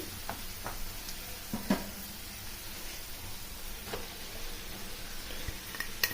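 Grated raw coconut being stirred into an oily masala in a pan for a raw coconut curry, a soft steady sizzle with occasional scraping stirs and light clinks, close but fairly quiet.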